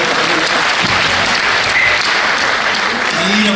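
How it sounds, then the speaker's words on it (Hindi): Dense, loud applause from an audience at a mushaira poetry gathering at a Saharanpur fair, a steady wash of clapping that holds evenly throughout. "आप अपने लिए एक बार तालियां बजाइए।"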